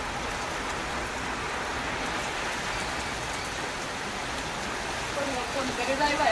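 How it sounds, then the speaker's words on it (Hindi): Steady rain pours down outdoors in a dense, even hiss of drops hitting the ground, loud and continuous throughout, with faint voices in the background. "देखिए बारिश आ गई"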